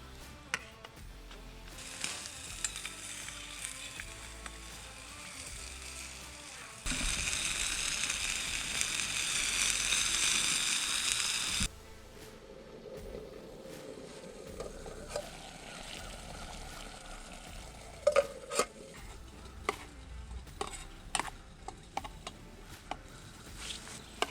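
Sausage and egg frying in a mess kit canteen cup over a Pathfinder alcohol stove, a soft sizzle and patter that swells to a steady loud hiss for several seconds, then eases back with scattered clicks and small taps.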